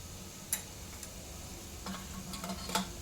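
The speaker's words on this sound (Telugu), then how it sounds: "వెల్లుల్లి రెప్పలు ఫ్రై అయినాయి కదా ఇందులో జీలకర్ర వేసుకోవాలి అలాగే పసుపు కూడా వేసేసుకోవాలి" Garlic cloves frying with cumin and turmeric in a pan, a faint steady sizzle broken by a few sharp clicks of a spoon against the pan, close and without talk.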